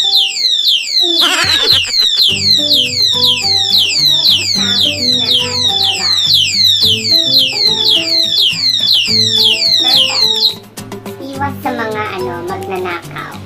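A new alarm lock sounds loudly and alone, a fast run of repeated rising electronic chirps over steady lower beeping tones that cuts off abruptly near the end, leaving a softer trail of beeps.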